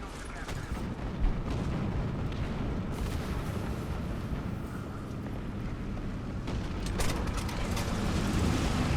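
Air attack explosions in War Thunder around an American M36 GMC tank destroyer, a continuous heavy rumble of blasts and booms with a few sharper bursts, loud and sustained throughout.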